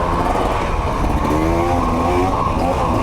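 KTM 300 XC W two-stroke dirt bike engine riding a trail, a loud steady drone that rises and falls slightly with the throttle, close to the rider and unbroken for the whole stretch, with no talk.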